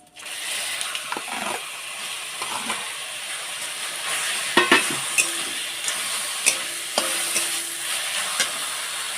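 Raw jujube berries frying with spices, dried chillies and whole five-spice seeds in a pan, a steady close sizzle broken by repeated scraping stirs and spoon knocks against the pan.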